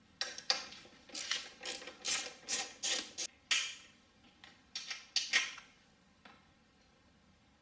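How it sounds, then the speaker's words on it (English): A ratchet wrench with a deep socket clicks in quick bursts while removing a bolt from a 2014 Harley-Davidson V-Rod Muscle seat, close and fairly quiet, with short pauses between strokes. "you need to get a deep socket and remove this bolt right here"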